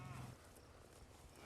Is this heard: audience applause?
no